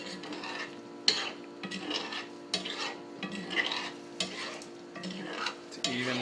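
Tofu and broccoli in a ginger brown sauce are stirred through a pan, with a soft continuous sizzle broken by repeated scraping and clinking utensil strokes at close range, no talking.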